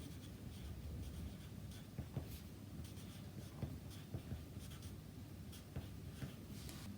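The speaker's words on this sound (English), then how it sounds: "I'm gonna write it down." Pen or pencil writing on paper while sketching a drawing thumbnail, soft scratchy strokes with small taps, close and quiet.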